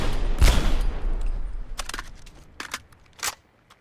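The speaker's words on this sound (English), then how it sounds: "that's semi-auto, and it also fires Gauss projectiles" Semi-auto Gauss weapon in Fallout 4 firing, a loud sharp discharge followed by several quicker crackling shots that fade out, with no voices.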